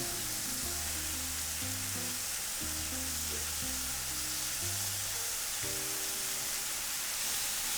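Shrimp frying in a hot skillet for Creole shrimp étouffée give off a steady, even broadband sizzle that holds loud and close throughout, with low tonal music running underneath.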